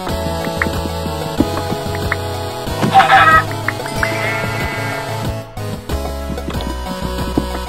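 Clucking and bleating of chickens and other farm animals in Minecraft over steady game background music, several calls spread across the scene at moderate loudness.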